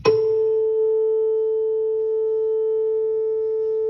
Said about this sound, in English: That sounds like the sound of a tuning fork.